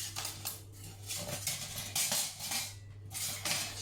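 Light metallic clinks and rattles from a lightweight titanium Lixada wood-burning twig camping stove being handled, with several clattering bursts close up over a steady low hum.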